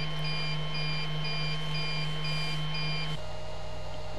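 A Speedglas Adflo welding respirator sounds its low-airflow alarm: a series of short, evenly spaced high beeps over a constant fan hum, and then the beeping stops while the hum carries on.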